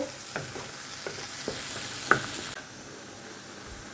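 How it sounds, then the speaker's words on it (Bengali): Spice mix with coriander, garam masala, nutmeg powder and salt sautéing in a pan, steady sizzle with several scraping stirs and a sharp clink near the middle, fairly close. "এটা একটু কষবো।"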